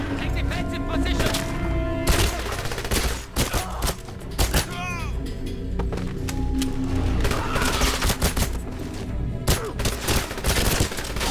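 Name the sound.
gunfire in the video game 007 Legends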